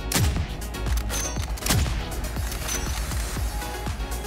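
Shots fired in Call of Duty Modern Warfare, several sharp reports spaced about half a second apart over steady game noise, no talking.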